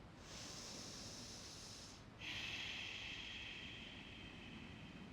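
Ujjayi breath drawn in through the nose during a Hatha yoga practice: a soft, close, steady hissing inhale that pauses briefly midway and then resumes with a stronger, more rasping tone, with no talking.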